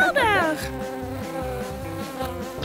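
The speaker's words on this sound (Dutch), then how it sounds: "De slimste vlieg die er is!" A fly buzzes in a steady, close, loud drone that runs the whole way through, opening with a brief rising whistle-like sweep.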